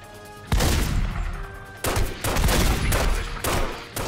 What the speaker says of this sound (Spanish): ¿Quién dispara, tío?